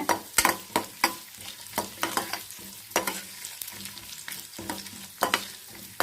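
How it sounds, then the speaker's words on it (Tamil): Grated coconut is sautéed in a pan until brownish for Kerala-style paruppu payasam, with rapid, irregular spatula strokes clattering close over a constant frying sizzle. "கொஞ்சம் ப்ரௌனிஷாக ஆகிற வரைக்கும் கொஞ்சம் வதக்கிக்கோங்க"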